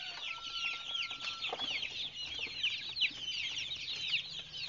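Young, month-old chickens chirp and cluck continuously, with many overlapping high peeps close by. A faint low cluck sits underneath, and no one speaks.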